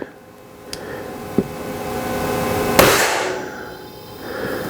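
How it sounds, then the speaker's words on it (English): A few sharp cracks from an air rifle firing heavy grain slugs, single shots spaced apart with a louder burst near the middle and faint background noise between them. "It's shooting pretty hard right now with heavy grain slugs, so it's using air though."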